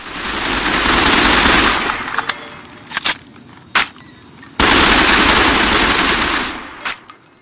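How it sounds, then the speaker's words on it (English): Assault rifle automatic fire in a video game, loud and close: a long sustained burst, a few single shots, then another long burst ending in scattered shots. "as we spend the clips in our assault rifle"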